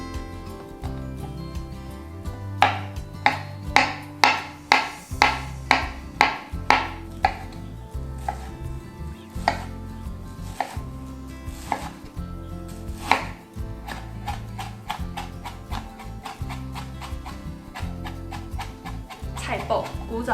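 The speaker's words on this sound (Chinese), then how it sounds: "老姜呢切成末状" A knife chops old ginger into mince on a cutting board, rapid rhythmic knocks in quick bursts, close and crisp, with a voice talking throughout and soft background music.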